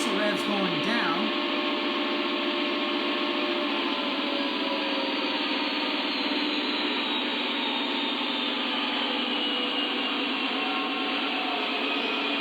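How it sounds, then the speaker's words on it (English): Lionel Legacy KCS 4006 model diesel locomotive sound effect with engine revs winding down, a steady loud droning rumble that holds throughout with no talk over it. "here is the diesel revs going down"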